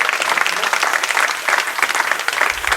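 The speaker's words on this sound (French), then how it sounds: "vous pouvez applaudir" An audience at a lecture on energy density breaks into brisk, dense applause, a steady wash of many hands clapping close by.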